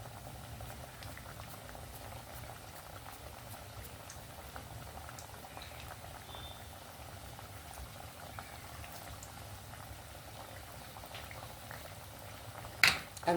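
Raw banana vadas deep fry in hot oil, giving a steady, quiet bubbling and crackle throughout. A brief louder clink comes near the end.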